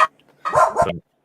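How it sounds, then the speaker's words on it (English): A dog gives a short, loud bark up close, then a quick doubled bark lasting about half a second. "Uh-oh. Dog's pissed."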